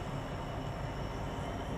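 A Class 66 diesel freight locomotive passing through Nuneaton station on the West Coast Main Line, a steady, loud rumble of engine and wagons that holds evenly throughout with no voices.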